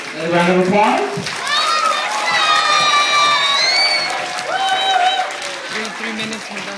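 Crowd of children applauding and cheering at a police department Red Ribbon Week event, loud continuous clapping mixed with high-pitched shouts and squeals that rise together and hold for several seconds.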